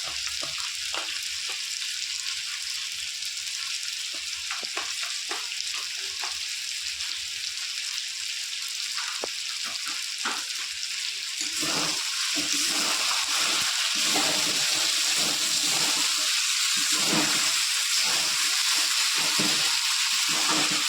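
Chicken kosha, a spiced curry, fries in a pan as tomato sauce goes in with the masala: a steady close sizzle that swells louder and busier about halfway through, with faint stirring and no talking.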